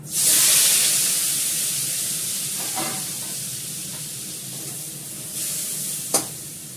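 Vegetables hit a hot pan with a loud burst of sizzling that slowly settles into a softer steady hiss, broken by a few stirring clinks and a sharp tap near the end, with no voices.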